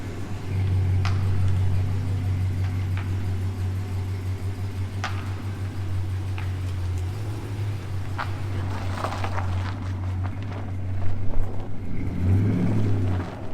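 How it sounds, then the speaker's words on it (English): A truck engine with a newly installed MPI exhaust and chrome tips idles with a deep steady rumble, then revs up briefly near the end, throaty and close. "Went behind the tire with Tony's with chrome tips, and he's gonna get her out and see what she sounds like."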